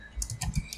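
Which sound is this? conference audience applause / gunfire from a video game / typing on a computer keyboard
typing on a computer keyboard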